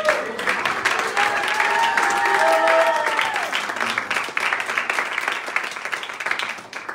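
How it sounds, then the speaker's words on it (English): Church congregation clapping hands together in worship, a thick, sustained round of applause with some whoops and voices rising above it, gradually tapering off toward the end. "Clap your hands and bless the Lord."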